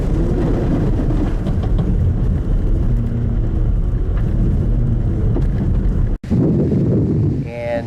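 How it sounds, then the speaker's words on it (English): An all-wheel drive 2018 Buick Regal TourX spins donuts in snow on a mountain, with a steady roar of engine and tires and wind buffeting the microphone. A brief cut comes near the end, and the roar then resumes. "It's a little hard to do donuts in an all-wheel drive car, but I am making my best attempt here for you."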